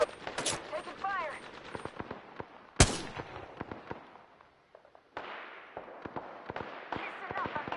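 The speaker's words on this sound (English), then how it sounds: "Firing. Taking fire." Rapid bursts of gunfire and single sharp shots from a shooter video game, loud and close, cracking in irregular clusters over a busy background of game effects.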